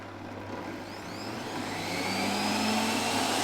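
A Sage centrifugal juicer whirs up alongside quieter slow juicers, its motor whine rising and growing louder over a few seconds into a steady, close, vacuum-like roar without any talking.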